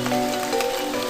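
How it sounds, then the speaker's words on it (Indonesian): Heavy rain pours in a continuous wash of noise, steady and fairly close, with faint tonal hums running beneath the downpour. "Hujan teh kuat ieu heula."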